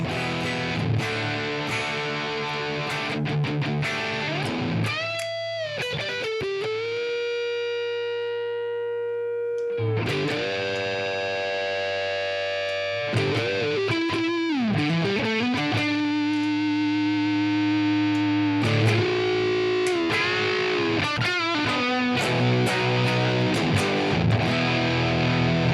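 Heavily distorted electric guitar through a JTM45 amp model plays sustained bends, slides and chords, loud and continuous with a couple of brief pauses.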